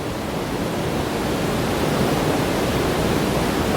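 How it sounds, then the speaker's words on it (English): Steady, loud broadband roar of a waterfall section along a path near Niagara Falls, continuous and close, with no voices. "further up the path here you can see there is another waterfall section"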